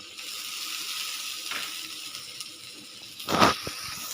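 Whole cardamom, cinnamon, cloves and bay leaves sizzle in hot oil for an egg and potato curry, a steady frying hiss with a brief louder burst near the end as the spices are stirred.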